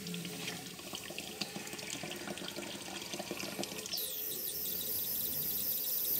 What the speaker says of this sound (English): Injector is injecting water into the boiler.